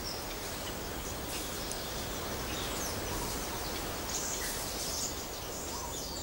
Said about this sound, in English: There are about 2 million birds here.